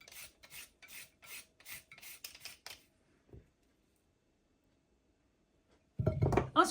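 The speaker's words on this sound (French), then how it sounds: "On coupe les extrémités de la carotte et ensuite on va peler." Carrots trimmed and then peeled with a hand peeler for a Moroccan salad, giving a series of short, rhythmic raspy strokes up close, followed by a long pause and a louder burst of clattering handling at the end.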